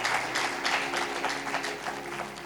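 A church congregation at a sermon bursts into loud, sustained applause, many hands clapping together in a dense, continuous roar close by.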